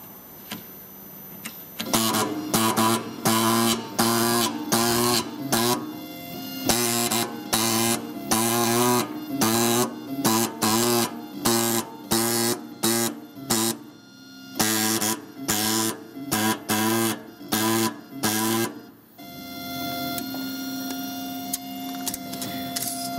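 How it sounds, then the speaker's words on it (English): Pneumatic marking machine running under an embedded controller, a loud rapid series of regular mechanical bursts in rhythmic clusters with short pauses, close and alone for most of the stretch before settling into a quieter hum. "We press the green button. Then the machine will start to move."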